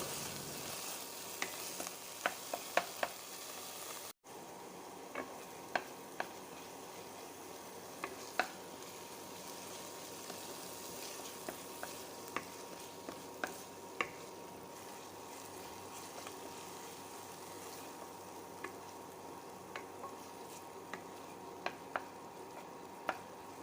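Spices fry on a low flame with a quiet, steady sizzle, while scattered light clicks and scrapes of stirring come close by over about twenty seconds, with no voices.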